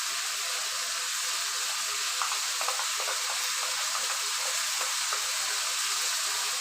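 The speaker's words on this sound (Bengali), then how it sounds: "দিয়ে আমি ভালো করে মশলাটা কষিয়ে নেব" Spices and masala for Bengali chicken kasha sizzle steadily in hot oil, a dense continuous hiss with occasional faint stirring scrapes and crackles, no voices.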